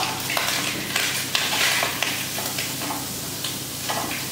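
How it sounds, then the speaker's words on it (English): Onions dropped into a pan with crisped bacon, frying with a soft continuous sizzle while a utensil scrapes and stirs in irregular clacks and scuffs, close and moderately quiet. "So we'll add our onions now"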